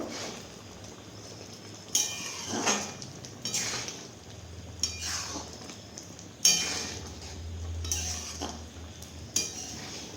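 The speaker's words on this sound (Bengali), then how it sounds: "এবার আমি এটাকে নেড়ে নেব।" Egg curry being stirred in a pan, a spoon scraping and clinking against the metal in irregular strokes over a low simmering hiss, close and fairly loud, with no talking.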